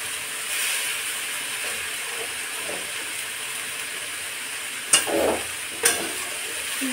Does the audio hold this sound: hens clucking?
no